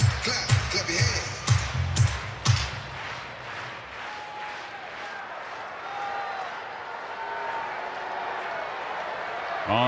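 Stadium crowd at a baseball game claps in a quick rhythmic burst of a few seconds, then settles into a broad, steady roar of cheering with a commentator talking over it.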